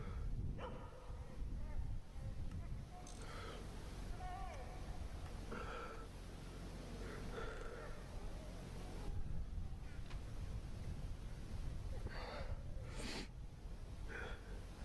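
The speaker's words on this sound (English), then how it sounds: "Sounds like the dog might be in pain." A dog in pain whimpers and yelps, giving short whines, snorts and yips again and again over a steady, noisy background, with people talking at times.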